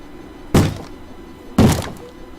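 A zombie bangs twice on a wooden door in Minecraft, two heavy thuds about a second apart, close and loud with nothing else heard.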